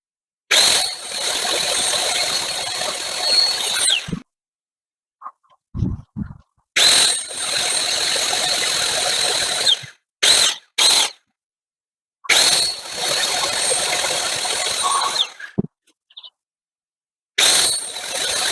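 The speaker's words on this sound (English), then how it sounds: "We're going to drill holes, 2 holes each end." A power drill boring holes into pallet wood for a workbench, four loud sustained whining bursts of several seconds each, separated by silences with a few short clicks and knocks.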